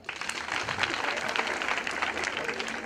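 A school audience at a Kitale girls' high school applauds students, a dense, continuous wash of many hands, steady and fairly loud throughout with faint voices mixed in.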